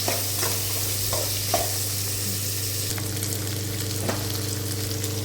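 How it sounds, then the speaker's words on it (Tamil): Small shallots and a handful of mint sautéing in a pan, giving a steady close sizzle over a constant low hum, with a few faint stirring scrapes and clicks spread through it, no voices. "ஒரு இருபது போல் சின்ன வெங்காயத்தை கட் பண்ணி சேர்த்து நல்லா வணக்கலாம்"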